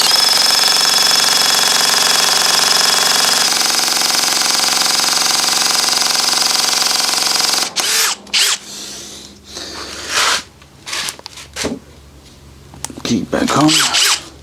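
A Bosch GSR 18V-90 FC drill fitted with a 10mm SDS Plus bit runs with a steady, loud motor whine for about eight seconds, then stops, followed by clattering handling noises and a voice.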